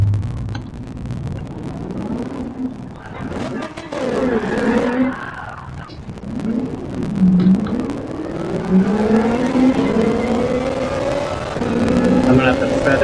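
A Ferrari 458 Italia GT3 race car engine in a racing video game, revving up and down with rising pitch sweeps and tire noise, loud and steady under a voice talking.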